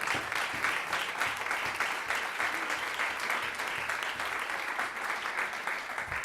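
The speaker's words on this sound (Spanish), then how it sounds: "Dale un aplauso al Señor." A church congregation applauds in unison, a full, even roar of many hands clapping that holds steady without any talking over it.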